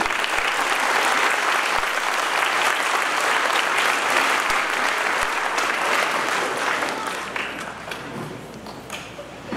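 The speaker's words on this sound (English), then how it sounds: "Please give yourselves a round of applause at this time." Audience applause at a middle school eighth grade ceremony, a sustained wash of clapping from a large crowd with a few thumps, easing slightly toward the end.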